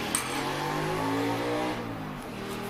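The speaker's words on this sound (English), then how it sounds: "Bloody bikes have stupid loud exhaust." A motorbike with a loud exhaust passing nearby, its engine note rising and then falling away as it goes by, heard alone with no talk.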